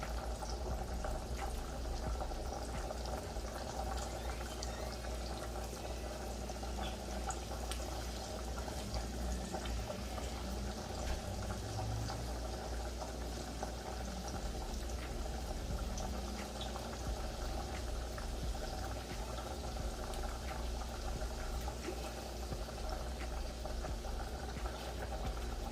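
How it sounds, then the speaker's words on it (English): Pasta boils in a pot of water on a stove at medium heat, giving a loud, continuous bubbling roar over a low rumble that holds steady from start to finish with no talking. "y'all see that the pasta is boiling"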